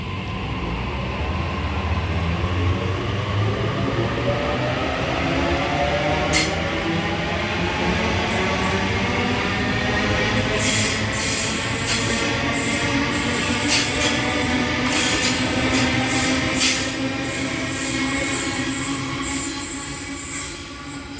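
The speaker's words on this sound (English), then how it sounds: "B36 now departing platform 3, Hornsby service" A Hornsby service train departs a station platform at Denistone, its wheels rolling and squealing steadily as carriages pass close by, with rhythmic clicks building over the long stretch.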